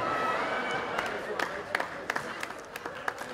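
Crowd clapping at a comedy show, thin scattered claps with a few sharper individual hits standing out over a murmur of voices and talk from the audience.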